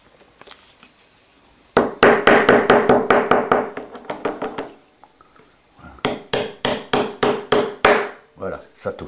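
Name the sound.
hammer striking while making a cabrette reed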